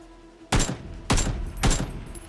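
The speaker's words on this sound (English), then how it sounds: "He's shooting someone else now." Three loud, close bursts of gunfire from the PUBG battle royale game, evenly spaced about half a second apart, each a sharp crack with a short ringing tail.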